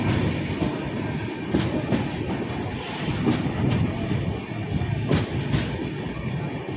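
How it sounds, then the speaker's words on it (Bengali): A passenger train from Sealdah to Darjeeling rolls into Kishanganj junction in Bihar, heard from inside with a steady loud rumble, rhythmic wheel clatter and occasional squeals, with no talking. "এই মুহূর্তে আমাদের ট্রেন এসে পৌঁছেছে বিহারের কিষানগঞ্জ জংশন"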